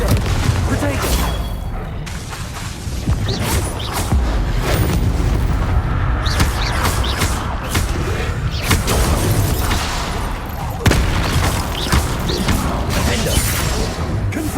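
Magic spells in Hogwarts Legacy, including Bombarda and Confringo, set off loud booms and crashes one after another, forming a dense, continuous barrage with a voice casting spells over it.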